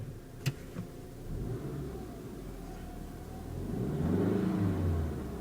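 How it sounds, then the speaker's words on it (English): A 2005 Saab 9-5 sedan engine idles with a low rumble, then swells into a rev that rises and falls back toward the end, heard from some distance and fairly quiet. "Here's what this car sounds like when you rev her up."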